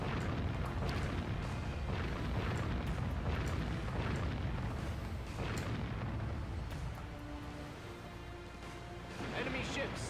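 Booming explosions and heavy gunfire from enemy warships being sunk in the naval combat game Warship Gunner 2, a dense, continuous barrage of blasts with sharp bursts throughout, loud and sustained.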